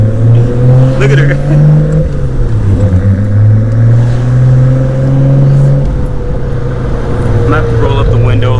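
Nissan Skyline R32 GTR cruising on the freeway, its steady engine drone and road rumble loud and continuous from inside the cabin, pitch dipping slightly midway as the car settles.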